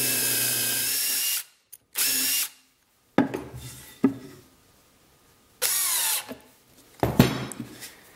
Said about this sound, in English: a 3/8 spade bit is a nice little way to do it